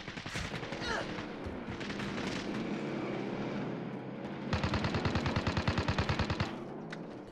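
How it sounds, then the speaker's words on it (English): Gunfire in the Warzone video game, with scattered shots early on, then a loud, fast, evenly pulsing automatic burst dominating the second half, over background battle noise and some speech. "There are shots everywhere."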